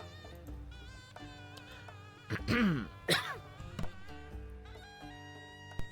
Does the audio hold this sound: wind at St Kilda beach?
no